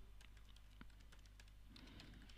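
Quiet typing on a computer keyboard, with soft, rapid key clicks in an irregular patter. It sounds close but faint, with no voices.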